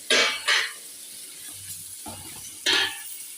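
Tomatoes frying in chili powder in a pan for a road-side-style biryani, heard as short bursts of loud sizzling from stirring, separated by quieter pauses, close by.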